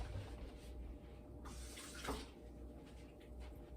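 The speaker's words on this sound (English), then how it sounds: "I'm going to rinse it off, or shall I say clean those rims" Water running from a tap while the rims of canning jars are rinsed, a faint steady flow with a slight splash near the middle, heard alone.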